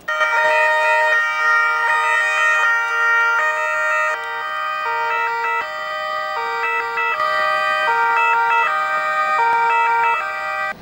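Police and official cars wail their sirens together at a hospital emergency department, loud and sustained, with overlapping two-tone patterns that repeat without pause.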